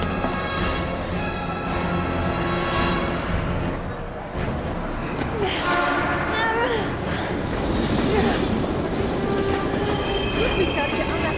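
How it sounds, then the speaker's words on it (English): A train passing in the video game Heavy Rain, a loud rumbling roar with metallic wheel squeals and screeching tones, steady and close, with a voice speaking over it partway through. "We gotta get on that train, Ethan."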